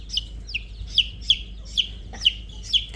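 An all-black Ayam Cemani rooster clucking, a series of about seven short, sharp, evenly spaced calls close by, with no talk.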